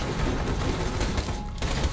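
Pistol gunfire in Borderlands 2 crackles as a quick run of shots under a dense, steady wash of game noise, fairly faint overall.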